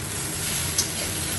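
Lifting the lid off a pot of boiling potatoes and drumsticks releases a continuous steamy hiss with a brief clink near the middle, close and steady, no voices.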